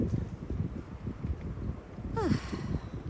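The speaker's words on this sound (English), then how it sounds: "this wind sucks" Gusty wind on a windy March evening outdoors, low rumbling buffets battering the microphone unevenly throughout, with a brief high chirp near the end.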